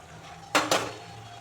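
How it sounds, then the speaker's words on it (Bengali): Fried fish pieces dropped into a pan of bottle gourd, two quick close clatters of pieces and utensil hitting the pan in succession, then a faint low simmer. "ভেজে রাখা মাছগুলো দিয়ে দিচ্ছি"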